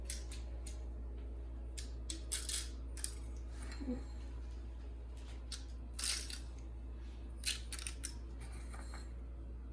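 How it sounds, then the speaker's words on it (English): Sprinkles scatter onto chocolate peanut clusters set on a mat or parchment paper, making faint, sparse ticking and clicking pattering in small bursts over a quiet background hum, with no talk. "First, I'm going to add on the sprinkles."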